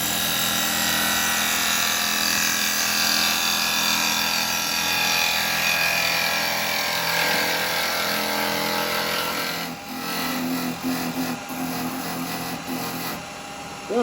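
Wood cut on a woodturning lathe while hollowing: a loud, continuous close-up scraping hiss from the tool against spinning wood, holding steady, then easing into a lighter, more uneven rasp with small knocks toward the end.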